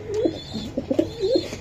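A handled pigeon on a pigeon farm gives several soft, rolling coos in quick succession, heard up close and alone.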